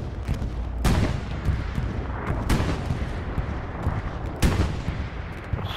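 An aircraft strafing run in the World War II shooter Hell Let Loose brings loud, heavy bursts of cannon and gun fire with a few sharp booming impacts over a constant rumbling battle din.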